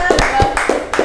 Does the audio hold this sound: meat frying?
no